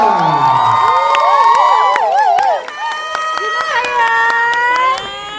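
A press conference audience cheering and whooping loudly with excited, high shouts throughout, an energetic crowd roar at a film trailer and poster launch.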